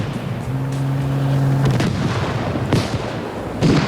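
Gunfire crackles in a Squad battle, with sharp shots scattered unevenly across a few seconds over a busy background and a brief steady electronic tone near the start.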